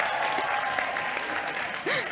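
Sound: audience applause at a college commencement

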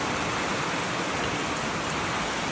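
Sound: heavy rain pouring

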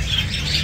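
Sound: European lovebirds chirping at a bird market

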